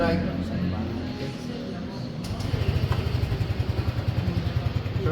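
A scooter engine idles close by with a steady, rapid putter that grows more pronounced toward the end, with a voice talking over it.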